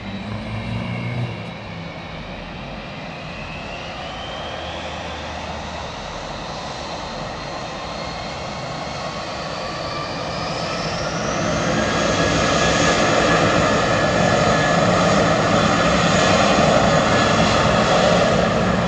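A Boeing 767 emerges from maintenance sheds at London Heathrow Airport, its engines a steady roaring drone that swells louder and rises in pitch partway through, with no voices.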